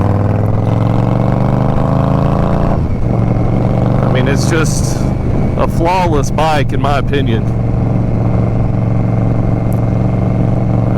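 A 2023 Indian Scout Rogue motorcycle fitted with a GP Shorty exhaust idles steadily with a low, even rumble, loud and close throughout while someone talks over it.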